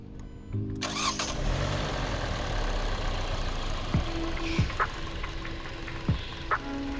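A 2019 Hyundai Veloster engine with 17,456 miles cranks and catches, then settles into a steady idle, with a few clicks and knocks sounding over the running motor.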